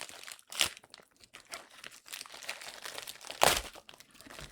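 Plastic pin packaging is torn open by hand, with crinkling and crackling throughout and two sharp, loud ripping bursts near the start and toward the end.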